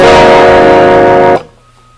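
A loud, clear electric guitar chord rings out with a bright, clean tone from a Firefly Telecaster-style guitar's single-coil pickups in the middle position, then is abruptly muted, leaving near silence.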